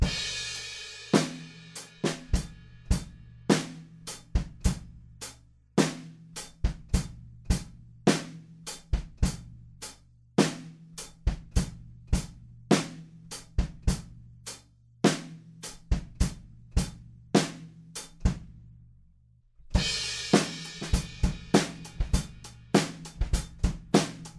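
A verse beat on a drum kit: a steady, repetitive pattern with regular kick and snare hits, a brief gap near the end, then crashing cymbals come back in.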